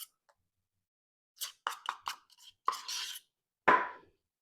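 Frosting dumped onto a carrot cake layer lands as a few soft, close plops and knocks separated by silence, with one heavier thud near the end, no talk.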